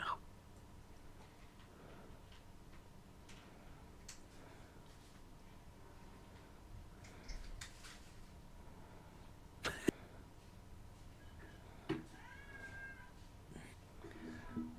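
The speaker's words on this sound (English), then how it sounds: "Meow." A cat meows faintly a few times, short thin cries scattered through a quiet, low rumbling background with occasional light clicks and ticks.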